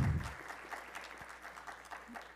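Scattered applause follows a speech at a law students' gathering, a modest, fairly quiet patter of clapping with a louder low thump at the start, heard from a distance in a hall.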